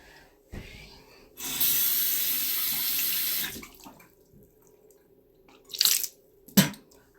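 Tap water pours to refill a drinking bowl, a steady, bright, hissing gush lasting about two seconds, followed by quieter clinks and a couple of short bumps, with no voices.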